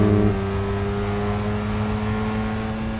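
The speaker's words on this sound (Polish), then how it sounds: "Tak, tu jest ładny drift." A Mazda RX-7 drifting in Need for Speed Underground 2 gives a loud, steady rotary-engine drone with a sustained high whine, held near and constant with no talking.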